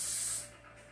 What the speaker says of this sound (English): just apply some spray and then use the can to set it into place